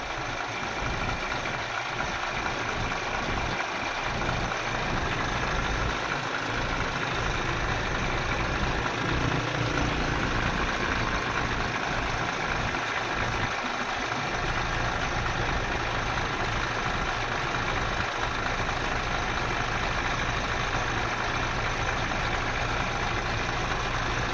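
A Six HK1 engine that had been hard to start now idles steadily, a continuous low rumble with an even drone held at constant loudness throughout, with no voices over it.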